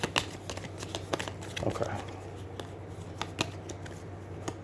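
Cards being shuffled for the Aeons End board game, a series of crisp riffling bursts repeated several times at close range, with a brief spoken word.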